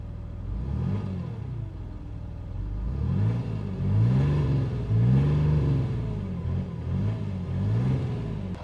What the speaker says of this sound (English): Now let's go to the back and get a nice diesel exhaust clip.